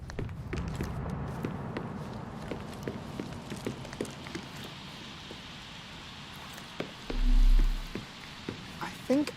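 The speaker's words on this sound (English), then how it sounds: "The only detail I'm sure of is that it was raining early that morning." Rain falling early in the morning in the Sherlock Holmes Chapter One video game, a soft, steady hiss with scattered drip-like taps, fairly faint, and a brief low thud near the end.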